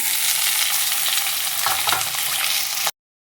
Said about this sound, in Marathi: तेल गरम झाल्यावर मी त्याच्यामध्ये कांदा टाकणार आहे